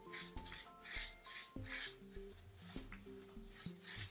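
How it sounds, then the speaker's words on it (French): A brush applies paint to ceiling beams in soft rhythmic strokes, quiet close swishes repeating over a faint musical background. "Donc, j'applique la peinture"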